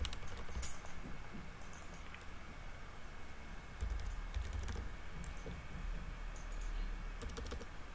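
Typing on a computer keyboard while entering commands in a Linux terminal on RedHat/CentOS 7; irregular bursts of quick, light key clicks close by, steady and alone without talk.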